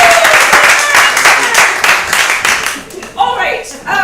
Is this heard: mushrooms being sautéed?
no